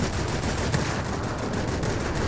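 Aircraft guns in the World of Warplanes game pour out a dense, continuous stream of rapid gunfire that stays loud and steady for the full stretch, with no break or pause.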